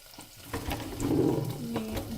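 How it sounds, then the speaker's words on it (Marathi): Sambar of mixed vegetables stirred in a pot: a short, soft, wet sloshing and scraping that swells midway, quiet and close. "बघा, त्याला असं मस्त ढवळून घ्यायचं"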